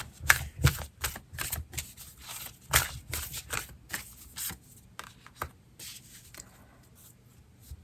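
Tarot cards shuffled and drawn by hand, a run of crisp riffling snaps and soft slaps in uneven bursts, close and moderately loud, with no talking.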